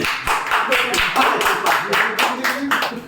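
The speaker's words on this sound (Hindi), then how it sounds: "इस बात के लिए तालियां बजाए जाए बच्चों" Children in a classroom clap together in a lively round of applause, many hands striking in dense, uneven bursts that carry on steadily throughout, with a faint murmur of voices mixed in.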